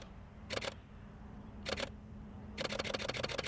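A camera shutter fires in rapid bursts during bird photography at a pond: a short double burst, another quick pair, then a longer rapid run of clicks, close and crisp over a low steady hum.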